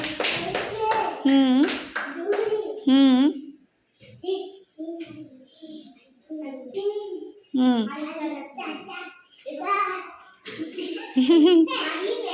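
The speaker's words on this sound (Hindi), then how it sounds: "ताली मारा" Hands clap during a children's counting game in a classroom, with sharp claps mixed in among children's voices that chant and speak throughout, close and fairly loud.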